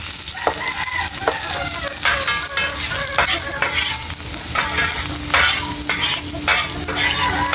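Garlic sautéing in a hot pan, with loud, continuous sizzling broken by repeated scraping and clinking strokes of a spatula, heard up close and alone.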